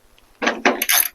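A ratchet wrench works a 10 mm hood bolt on a 1998 Mercedes C230, giving three short, loud, close bursts of clicking, each a quick run of pawl ratcheting separated by brief pauses.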